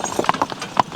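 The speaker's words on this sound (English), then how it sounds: "And the other question is how that horse is going to react." A horse's hooves clip-clop in a quick uneven rhythm, close and fairly loud, roughly five sharp knocks within a second, with no talking over them.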